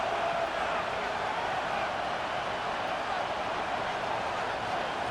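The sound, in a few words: stadium crowd cheering during American football game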